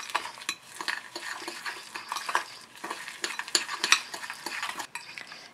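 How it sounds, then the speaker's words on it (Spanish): Soufflé batter with lemon zest being stirred in a bowl, repeated scraping and tapping strokes of a utensil in an uneven rhythm, close and clear with no voices. "Mezclamos."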